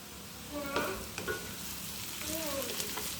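Rotis deep-frying in hot oil give a soft, steady sizzle and bubbling, with a few brief clinks and scrapes of a utensil, faint and close.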